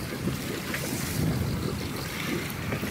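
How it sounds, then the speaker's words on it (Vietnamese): Wind gusting over open water on a Mekong Delta floodplain during fishing, a steady broadband rush with low-frequency buffeting against the microphone and faint lapping water beneath, continuous and fairly loud with no speech. "Gió nổi lên rồi đó."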